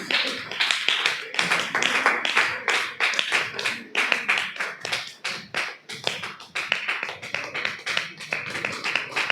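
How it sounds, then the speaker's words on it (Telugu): A church audience at a Mother Mary divine motherhood festival and New Year 2026 celebration claps steadily, with many hands forming dense, rhythmic bursts that swell and dip, fairly close and without talk. "చప్పట్లు కొట్టడం మానేయద్దు"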